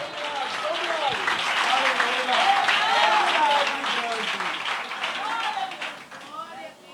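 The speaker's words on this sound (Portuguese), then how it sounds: "Aplauda o Senhor" Worshippers at a church service applaud the Lord, a broad burst of clapping that swells and holds, then fades toward the end, with a preacher's voice woven through the crowd noise.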